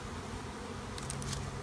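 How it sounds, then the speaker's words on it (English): A low, continuous buzzing hum of a swarm of bees close by, steady and dense throughout the short moment. "I'm right in the middle of a big old swarm of bees."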